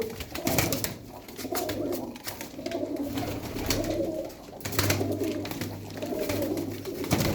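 Pigeons, tumbler birds kept by a fancier, give soft low repeated coos in overlapping rhythmic phrases, close by, against a busy background of fluttering and small outdoor noises, with no speech.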